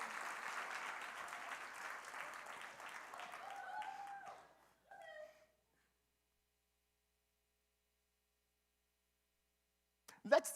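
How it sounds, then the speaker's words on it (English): An audience at a community event applauds award winners with a dense burst of clapping that fades out after about four seconds; a voice speaks briefly, then quiet, then another short loud sound near the end. "Let's give another big round of applause for all our award winners."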